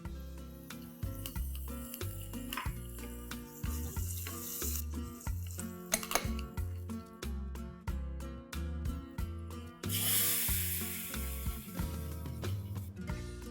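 Mustard seeds, dried red chillies and curry leaves frying in a little oil, sizzling and crackling while being stirred, with irregular spoon scrapes and brief bursts of louder spitting, heard close up with no voices.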